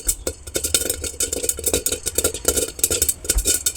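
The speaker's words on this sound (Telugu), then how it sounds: "పేలాలు అయితే ఎంత చక్కగా పేలుతున్నాయో" Sorghum grains pop in a covered pan, a rapid, irregular stream of sharp crackles and bursts close by, dense and lively throughout.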